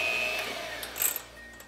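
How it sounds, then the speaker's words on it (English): An electric hand mixer whirs steadily through heavy cream and powdered sugar, its motor hum close and continuous, with a brief clatter of beaters against the bowl near the end and no voices. "your electric mixer again, and you're gonna mix that"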